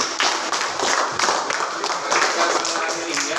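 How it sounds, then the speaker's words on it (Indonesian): Students in a classroom clap for their classmates, a scattered, fairly close round of applause with chatter and voices running through it. "Tepuk tangan dong buat teman-temannya."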